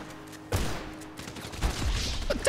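Gunfire in the video game GTA 5: sudden loud shot bursts and rattling fire crackle close by, repeating in a quick, uneven cluster.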